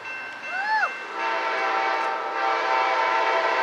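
Amtrak Crescent #20 passenger train approaches in Mableton, Georgia, sounding its horn in one short rising-and-falling blast, then a steady, loud rumble of the locomotive and cars rolling close by.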